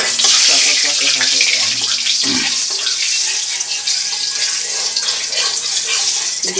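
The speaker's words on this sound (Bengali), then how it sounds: "এদিকে কিন্তু আমাদের তেল কিন্তু চটপটর করে আওয়াজ হচ্ছে কারণ গরম হয়ে গেছে" Hot oil crackles and sputters in a cooking pan, making a loud, continuous rushing hiss close by with dense, irregular popping throughout.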